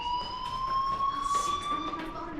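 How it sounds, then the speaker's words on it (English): A fire alarm in the video game Life is Strange rings as a steady electronic tone, moderately loud and continuous, with other faint game sounds underneath. "Hey, do you hear that fire alarm? That means you should be outside."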